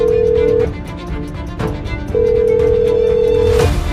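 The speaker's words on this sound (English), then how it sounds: "that phone rings" A telephone rings in an old radio play, two long steady electronic tones separated by a short gap, loud and close over a faint busy background.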